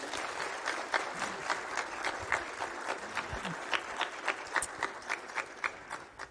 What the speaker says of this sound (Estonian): Teeme Hedile ühe suure aplausi.